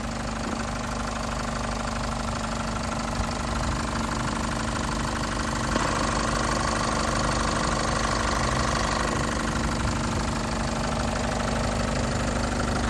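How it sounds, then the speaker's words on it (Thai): Isuzu D-Max 1.9 litre DDI four-cylinder inline diesel from 2017 idling smoothly, a steady close-up engine drone with a faint knocking texture and no speech. "เสียงเครื่องยนต์ดังแบบนี้เลยนะฮะเดินนิ่มๆ"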